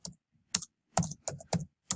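Six quick, crisp keystrokes on a computer keyboard, irregularly spaced, close and fairly quiet with silence between taps.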